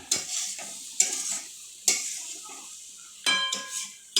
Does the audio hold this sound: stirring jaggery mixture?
yes